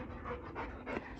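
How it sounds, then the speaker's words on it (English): Dogs pant heavily and rhythmically nearby in a garage during a Toyota Starlet GT turbo build, with quick breaths repeating through the brief moment and no voices. "So sorry about all of the heavy breathing. Got some idiot dogs here."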